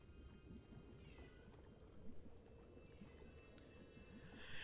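A cat meows faintly in the background of a quiet room, with a low rumbling hum throughout.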